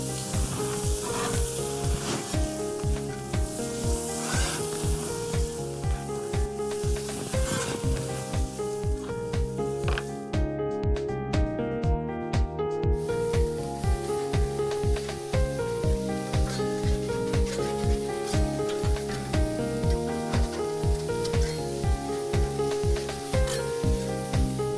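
Burger buns toast on a hot grill for a Texas-style burger, a steady sizzle running throughout beneath a layer of tonal, rhythmic hum.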